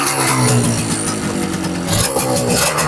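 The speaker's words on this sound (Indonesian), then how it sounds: "Mesinnya halus banget." An old motorcycle engine idles close by, a rough, busy mechanical clatter with a steady pulse and bright high-pitched rattle, continuous and loud, with no voices over it.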